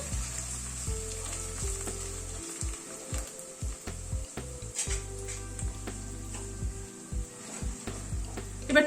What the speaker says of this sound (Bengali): সব গুঁড়ো মশলাগুলো দিয়ে আবার একটু নাড়াচাড়া করে নেবো